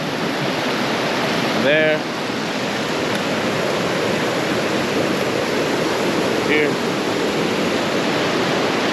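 Continuous rushing water flowing steadily down a creek, loud and close, with a couple of brief spoken words over it.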